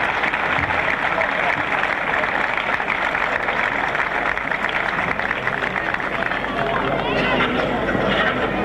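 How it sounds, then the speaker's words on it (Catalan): A crowd at a Moros i Cristians festival event in Castelló de la Ribera gives loud, sustained applause, a dense, steady clatter of clapping with voices mixed in, continuing throughout. "acomiadem amb un fort aplaudiment a Vicente i Joaquina"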